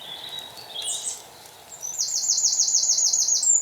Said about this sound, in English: I just hear the birds.